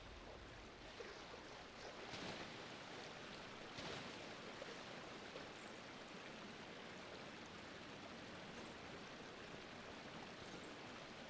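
A waterfall in Genshin Impact gives a steady, faint rushing wash of falling water that runs continuously and evenly throughout.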